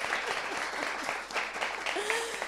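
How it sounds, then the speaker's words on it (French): Audience at a women's rights day event in an African community gathering clapping together, a steady, moderately faint patter of many hands without a break. "On applaudit quand même."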